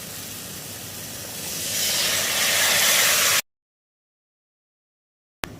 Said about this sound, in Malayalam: ഇനി നമുക്ക് ഇതിലേക്കുള്ള വെജിറ്റബിൾസ് ചേർത്ത് കൊടുക്കാം.